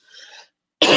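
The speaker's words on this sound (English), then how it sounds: "The coughing." A single short cough, preceded by a faint breathy sound and a brief pause, close and loud.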